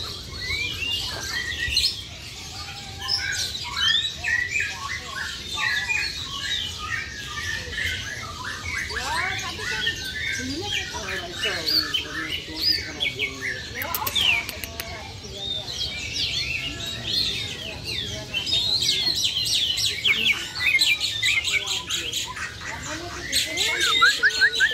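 Many birds chirp and tweet continuously in a busy chorus at a bird market, with people talking in the background.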